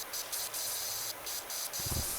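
A pressure washer in Powerwash Simulator 2 sprays in short hissing bursts that start and stop several times, with a brief low thud near the end and no talking.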